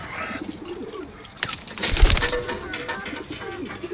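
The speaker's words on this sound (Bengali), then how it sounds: "এগুলো সব আমার মাদি কবুতর" Female racing pigeons coo in low, rolling murmurs nearby, with a brief rustle or flutter of wings partway through.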